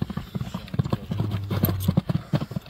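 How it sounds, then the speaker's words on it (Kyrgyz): A horse trots past at a livestock market in Kadamjay, its hooves clip-clopping in a quick, steady rhythm at close range, with brief background voices. "Мына аттын чуркашы."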